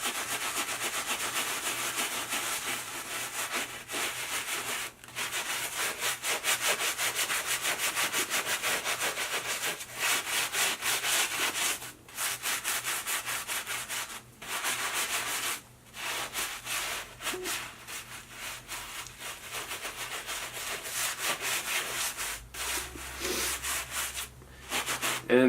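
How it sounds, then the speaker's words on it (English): Steady, close scrubbing of a surface with Vicks cleaner, a continuous rough rubbing rhythm with brief pauses between strokes, loud and alone. "I can already tell that with the second scrub down"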